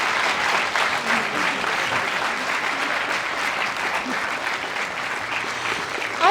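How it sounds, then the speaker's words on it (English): An event audience at a free speech gathering breaks into long, full applause for a journalist, a dense wash of many hands clapping steadily, close and loud, holding throughout. "I think we need one more round of applause for the incredible Lise Doucette."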